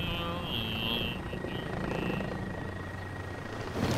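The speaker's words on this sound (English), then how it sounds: "Yes! The helicopter!" A helicopter in Call of Duty: Modern Warfare drones steadily with a low, fluttering rotor hum, with faint tonal chirps from game effects over it.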